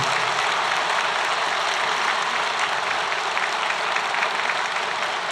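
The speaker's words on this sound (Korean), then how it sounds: "박수로." A church congregation applauds during an installation thanksgiving service, a broad continuous wash of clapping that holds steady and full for several seconds.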